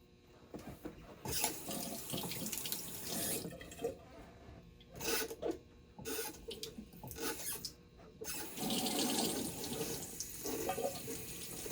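Running tap water splashes into a sink while a razor is rinsed during a Bay Rum shave, a close, irregular rush of water with brief breaks and no talking.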